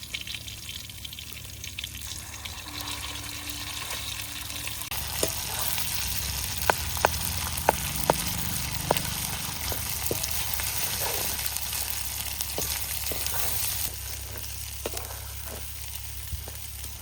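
Ground masala frying over browned onions in a pan for Vidarbha-style sev bhaji: a continuous soft sizzle with scattered sharp spatters and pops, with no talking.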